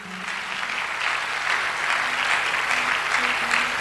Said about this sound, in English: And also clap for our pastor.